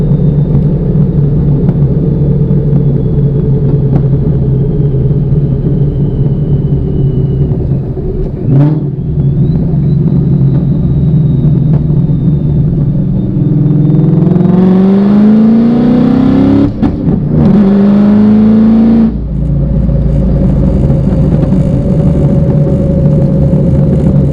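A Whipple-supercharged 2016 Mustang GT engine idles loud and close, then revs hard through a couple of rising pulls with supercharger whine before dropping back to a steady idle.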